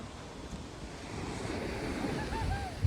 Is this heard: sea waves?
yes